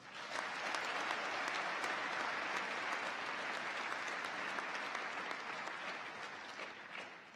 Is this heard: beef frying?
no